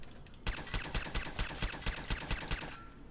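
Rapid automatic gunfire in Fallout 4, a burst of roughly fifteen evenly spaced sharp shots at close range lasting a little over two seconds, then cutting off, with no speech.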